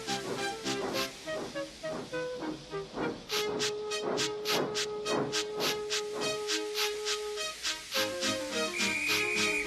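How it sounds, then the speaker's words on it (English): A steam locomotive blows off steam, hissing and puffing in loud rhythmic bursts, with a sustained whistle-like tone partway through, close and prominent. "with much noise and blowing of steam, got ready to back onto the train"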